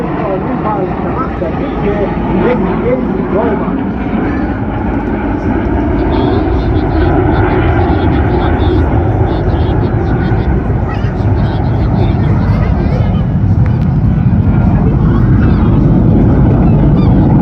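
Red Arrows jet aircraft rolling outward in a formation display at an air show in Blackpool, a loud steady roaring jet drone overhead with a commentator's voice over it.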